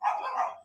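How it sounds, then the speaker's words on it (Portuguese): A pet dog at home gives a single short, sharp bark that is moderately loud and close, with nothing else sounding. "Aí meu cachorro resolveu latir justo agora"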